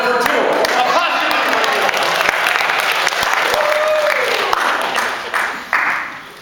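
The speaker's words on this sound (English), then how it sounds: "Give her a round of applause." Audience applause for a young prize winner at a live show, a dense steady wash of clapping with some cheering that tapers off near the end.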